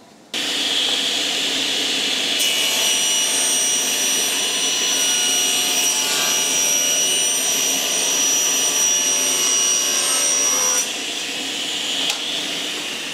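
A power saw cuts wood boards to length with a loud, steady, high whine that runs for about ten seconds, then drops away as the blade winds down.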